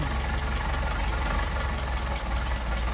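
A Mercedes 190SL engine fitted with Solex carburetors runs steadily at idle, a dense, constant close-up mechanical drone with low rumble and no speech over it.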